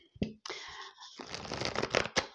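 Tarot cards are shuffled for a reading in a short, quiet burst of soft riffling and flapping, with a few brief taps before it.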